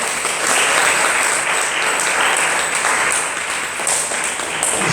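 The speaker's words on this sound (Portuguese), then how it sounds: "Vamos dar um aplauso ao Senhor." A church congregation breaks into loud, sustained applause, dense clapping filling the room evenly for several seconds without letting up.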